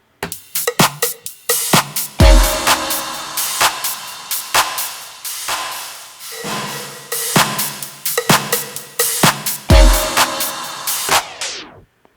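Through the reverb effect on a Pioneer DDJ-1000 DJ controller, a loud percussive beat plays with each hit trailing off into a smeared, lingering tail, then fades out at the close.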